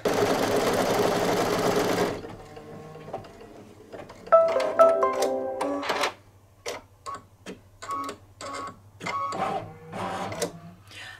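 An embroidery machine sews placement lines for an in-the-hoop towel topper, first a dense steady run of whirring stitches, then a stretch of uneven clicking bursts and short mechanical stitching passes separated by pauses.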